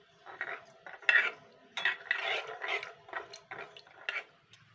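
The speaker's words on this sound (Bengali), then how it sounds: "এবার আমি ফুড কালার দিচ্ছি সবুজ রঙে, যেহেতু সবুজ বুট হবে। এটা ভালো করে মিশিয়ে নিচ্ছি।" Soaked peas stirred with green food colour in a bowl, producing soft, close, wet clinks and scrapes in short irregular strokes at a fairly faint level, with no talking.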